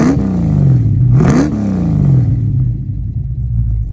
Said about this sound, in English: let's take a listen to that exhaust note.